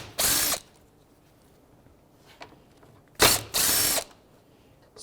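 A ratchet fitted with a 12mm socket loosens a radiator mount bracket bolt on a 2013-2018 Toyota RAV4, heard as two loud bursts of rapid clicking separated by a pause, with a short faint click in between and no talking.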